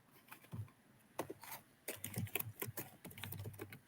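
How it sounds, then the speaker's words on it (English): Typing on a computer keyboard, with quiet, irregular clusters of key clicks and pauses heard close up in an otherwise calm room. "She's typing."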